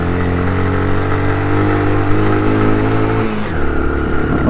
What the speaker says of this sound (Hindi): होपफुली सेकंड गियर में ऊपर चढ़ जाएगी बाइक, आई होप।